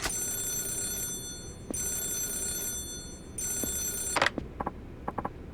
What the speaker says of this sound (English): Is that the phone?